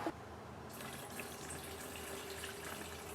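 Gasoline and two-stroke oil slosh inside a gas can being tipped and shaken for dirt bike premix, a steady close liquid swishing with no talking.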